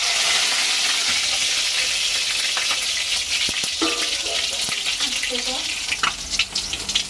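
Tomatoes hitting hot oil for matar ghugni, a close crackling sizzle with a few clinks of utensils and stirring sounds, rising toward the end.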